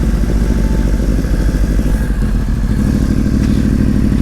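Yamaha R1 motorcycle engine running steadily, a loud, close, continuous throbbing rumble with a slight shift in tone partway through, alone with no talking.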